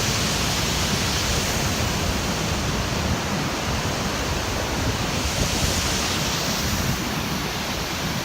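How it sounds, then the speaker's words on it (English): Arbirlot Falls waterfall, running high: a loud, steady broadband roar of rushing water with some wind buffeting the mic, continuous throughout with no talking. "There we go, there's the Arbirlot Falls."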